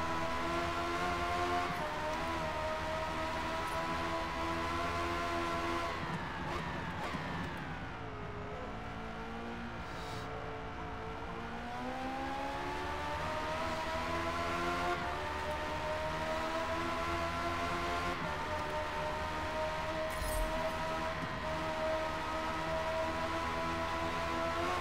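Ariel Atom sports car engine revving hard while it downshifts and the revs rise and fall in long sweeps, loud and close with a whining tone and no talk.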